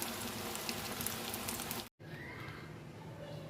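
Chhana (cottage cheese) fritters frying in hot oil give a steady, dense sizzle and crackle like rain on a surface, broken by a brief cut to silence before the sizzle resumes a little quieter.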